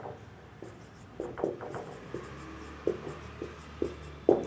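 Notes written out by hand during a Hindi grammar lesson: a series of soft, close scratching strokes with short pauses, repeating irregularly and growing slightly louder toward the end, with no talking.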